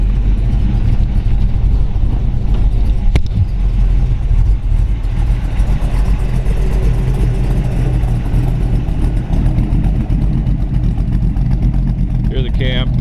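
A 1932 Ford Roadster hi-boy hot rod with a pro-built 327 Chevy V8 and quick-change rear differential idles with a steady, lumpy low rumble close by, someone speaking over it.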